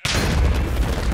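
A TNT block exploding in Minecraft, a single loud, close booming blast that starts abruptly and rumbles heavily through its brief length.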